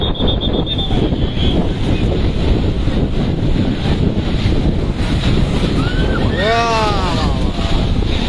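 High-tide surf crashes against Digha beach near a watch tower, a loud continuous roar of breaking waves buffeted by heavy wind noise on the microphone, with a brief high whistle near the end.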